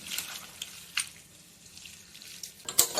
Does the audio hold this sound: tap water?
yes